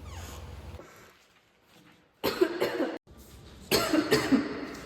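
A person coughs in a quiet room, one faint cough early, then two loud, close bursts of harsh repeated coughs separated by a short pause.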